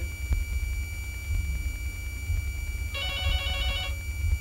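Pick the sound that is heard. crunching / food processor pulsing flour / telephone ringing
telephone ringing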